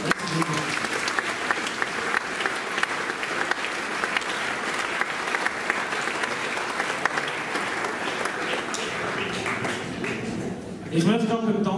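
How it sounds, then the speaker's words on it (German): Sustained audience applause fills a hall at a gymnastics club's annual evening show, dense steady clapping at moderate loudness for most of the stretch, tapering near the end as a voice returns. "Ich denke, einen riesen Applaus an jeden"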